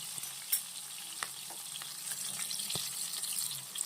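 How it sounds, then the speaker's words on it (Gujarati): Onions sautéing in a pan for a Gujarati whole-onion curry give a steady, close sizzle and crackle with a few sharper pops and stirring scrapes, no voices. "ડુંગળી ગુલાબી રંગની થાય ત્યાં સુધી આપણે એને સાતળવાની છે"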